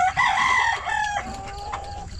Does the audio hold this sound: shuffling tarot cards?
no